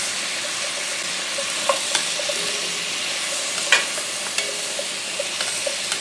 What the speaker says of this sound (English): some of these juices from the carrots and the onions are starting to deglaze this pan as well